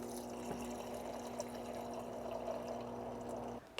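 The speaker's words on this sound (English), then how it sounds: "And then I use about 6 ounces of water. I usually fill it up to like right here on the mason jar." Water is poured steadily into a mason jar, about six ounces, for a continuous gentle trickling fill at close range that stops abruptly near the end, with no one speaking.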